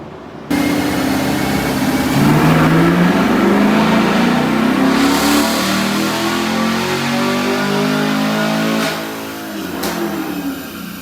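A 2020 Chevrolet Camaro LT1 V8 on a dyno roars through a long, loud pull, pitch climbing steadily before backing off near the end, with no talk over it.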